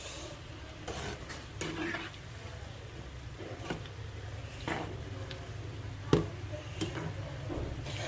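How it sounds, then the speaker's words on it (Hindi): Chicken pakoras frying in a small karahi over a medium flame give a steady, close crackling hiss, broken by occasional clinks of a utensil against the pan, with no talk. "ये देखिए हमारे चिकन के पकोड़े हो रहे हैं"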